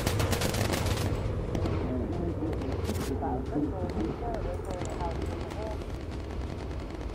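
.50 caliber machine guns rattle in rapid sustained bursts aboard a bomber in the Bomber Crew video game, dense and loud at first, then thinning under a continuous engine drone with voices talking over it.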